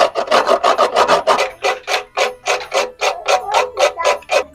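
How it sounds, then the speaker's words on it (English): Whole nutmeg scrapes across a grater in quick, regular rasping strokes, about four per second, loud and close with no voices. "Now we're going to be grating nutmeg into it."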